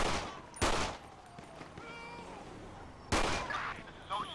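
Video game gunfire in GTA V with the LSPDFR police mod, two loud bursts of shots a few seconds apart with a shorter burst at the end, separated by quieter background game sound.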